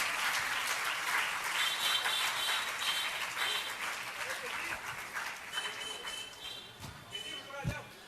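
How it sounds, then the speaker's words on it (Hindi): An audience at a Digambar Jain community assembly claps loudly and steadily, a dense rattle of many hands, while a voice keeps talking over the applause. "जोरदार तालियां बजनी चाहिए प्रदीप जी रद्दी वालों के सम्मान में"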